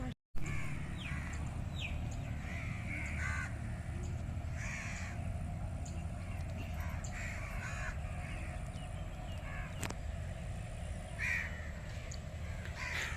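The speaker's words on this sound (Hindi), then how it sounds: "इधर आज कौवे बहुत ज़्यादा हैं क्योंकि हमने चिकन बनाया था ना, तो इसलिए बहुत ज़्यादा कौवे आए हुए हैं।" Many crows caw repeatedly near a home where chicken was cooked, harsh calls scattered irregularly over a steady outdoor hum, with faint voices in the background.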